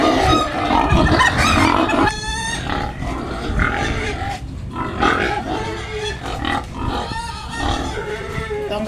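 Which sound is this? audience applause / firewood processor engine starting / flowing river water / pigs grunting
pigs grunting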